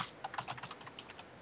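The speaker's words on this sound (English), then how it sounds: "I'm always typing the wrong things." A quick burst of keystrokes on a faulty computer keyboard during a live coding lesson, about a dozen light, rapid clicks, faint and close with no talking.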